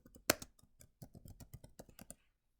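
A computer keyboard clatters as an Excel formula is entered, a rapid run of crisp, light key taps with one louder strike near the start, close and fairly quiet, ending in silence.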